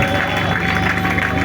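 A church congregation applauds and cheers, dense clapping from a crowd filling the room, loud and close, over a brief moment.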